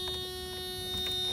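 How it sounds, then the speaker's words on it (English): A steady electronic warning buzzer in a Mazda Miata M Edition drones continuously at a constant pitch, moderately loud and close, with a faint engine-like rumble underneath. "Oh my God, I hate that buzzer."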